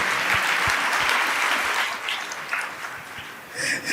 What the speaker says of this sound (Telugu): ఇప్పుడు కొట్టాలి అసలు లెక్క ప్రకారం చప్పట్లు